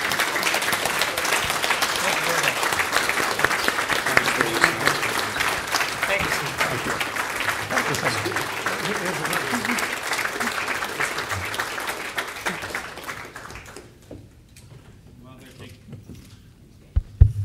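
Sustained audience applause at a symposium for two ambassadors, a dense steady roar of clapping for about thirteen seconds before tapering off to near silence with a few scattered claps.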